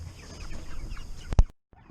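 Cornish Cross meat chickens cluck softly and close by, a brief burst of louder clucks near the end before a short silence.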